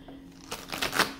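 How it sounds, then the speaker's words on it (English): Tarot cards being shuffled by hand during a reading, a quiet riffling flutter that builds through a few soft bursts toward the end, alone without talk. "3 more shuffles for the twin flames"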